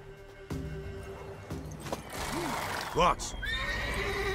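A mare whinnies in The Witcher 3, a loud rising-and-falling neigh with a sharp peak near the middle, alongside hoof clip-clops and game sounds, with a brief spoken exclamation mixed in.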